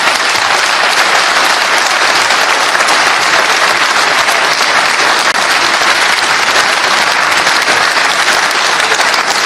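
Audience applause fills the room, dense, steady and loud from start to end without a break.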